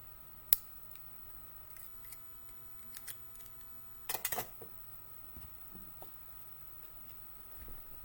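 Scissors snipping tea bag sleeve material in a quiet room, a few sharp isolated clicks with a brief cluster of quick cuts midway, close and fairly faint.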